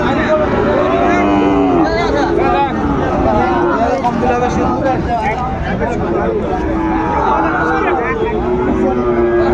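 A young Sahiwal calf lows among other cattle at a crowded Dhaka cattle market, its calls rising over constant crowd babble and nearby talk.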